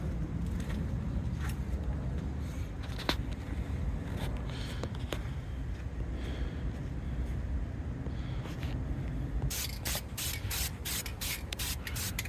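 Spray primer hissing onto Lexus RC brake calipers in a garage, a steady broadband rush with light rubbing and handling noises, ending in a series of short, sharp spray bursts.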